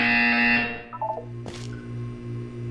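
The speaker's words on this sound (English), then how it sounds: "You will hear a buzzer." An electronic buzzer sounds in the video game Portal, giving one loud, steady harsh tone that cuts off abruptly, followed by a few short beeps over a low hum.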